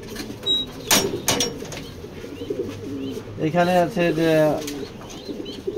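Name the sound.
pedigree racer pigeons cooing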